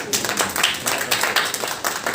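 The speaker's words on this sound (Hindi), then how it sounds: "उसके लिए पहले तालियां आप।" Audience clapping at a Hindi book launch event, a steady patter of many hands filling the hall at moderate volume without pause.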